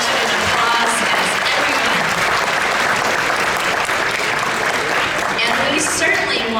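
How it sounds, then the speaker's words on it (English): Dense, sustained audience applause fills a hall at a youth honor orchestra concert, steady and loud throughout with cheers and voices mixed in. "You deserve just as much of an applause as"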